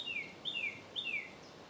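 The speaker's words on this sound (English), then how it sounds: "Sounds like a thrush." Three clear, high descending whistled thrush phrases ring out at a moderate distance over a quiet outdoor background near Blakeney in Norfolk.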